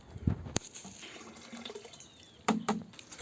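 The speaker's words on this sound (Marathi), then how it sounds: "आपण लाईफ दोनशे लिटर पाण्याला अर्धा लिटर घेत आहो" Liquid splashes and gurgles into water in a few short bursts, close by, with quiet pauses between the pours, as crop treatment is measured into 200 litres of water.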